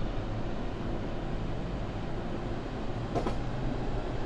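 Steady rumbling run of a JR East train in a Japan Railway train simulator game, a constant low rolling drone with one brief brighter hiss near the end.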